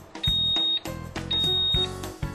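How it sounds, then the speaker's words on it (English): Three electronic beeps sound in a row from a Waring Pro waffle maker signaling the waffle is done, steady and fairly close, over a busy background of clatter and music. "When the waffle is completely baked, you'll hear 3 beeps."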